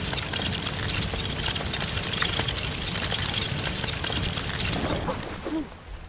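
Lawnmower engine in the LEGO Worlds video game, a steady idling drone with some rough knocking texture that fades slightly near the end, heard alone without talk.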